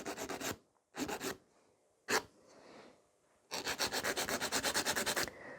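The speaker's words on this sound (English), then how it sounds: "Don't file too much at the one side." Acrylic nails being shaped with a nail file: rasping strokes in short bursts, then a longer stretch of rapid, even back-and-forth filing, close up with no talking.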